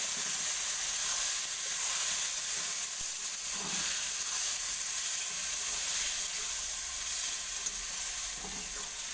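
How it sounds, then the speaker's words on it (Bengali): Gourd greens curry with fish head sits in a hot pan, giving a loud, continuous hissing sizzle with a few soft stirring knocks, close up and with no talking. "ভাজা হয়ে গেছে, এবার আমি তরকারিটা ঢেলে দেবো।"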